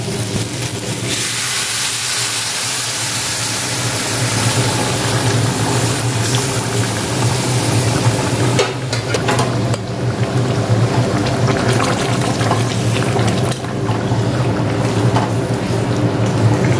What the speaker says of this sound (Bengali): আমি এবার এই জলটা দিয়ে দেবো।